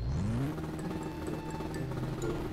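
A car engine in the Roblox game Thai Rodzing revs for a burnout, pitch climbing sharply at first and then holding a steady, loud drone with some whirring and clatter underneath.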